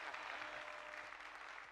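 A TV studio audience on a Burkinabé variety show claps in a dense, steady wash that holds for under two seconds. It sounds fairly faint and distant.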